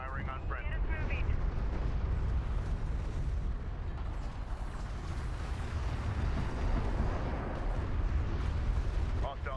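Battle in the strategy game Homeworld: Deserts of Kharak: a continuous low rumble of explosions and weapons fire, including railgun shots, rolling on throughout at moderate distance, with radio-style voices talking over it.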